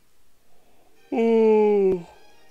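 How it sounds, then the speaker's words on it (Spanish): A single drawn-out voiced yawn lasting about a second, rising abruptly into a steady, slightly falling moan before cutting off, close and clear against a near-silent background. "Perdón por el bostezo"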